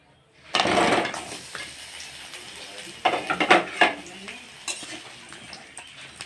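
Pointed gourd (potol) dropped into hot oil in a kadai, a loud sizzling burst followed by steady frying hiss with a few stirring scrapes and clinks of a spoon against the pan, close and without talk.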